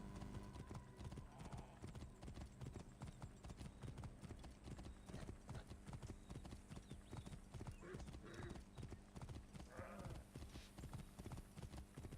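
Horse hooves clip-clop steadily in a video game, a continuous trotting rhythm beneath dense game music and effects, with someone talking over it.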